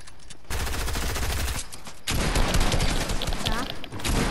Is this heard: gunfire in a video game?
yes